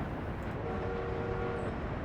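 Train in the city-building game Workers and Resources, a steady low rumble of rolling rail traffic with a faint sustained horn-like tone running underneath, continuous and moderately loud with no talking.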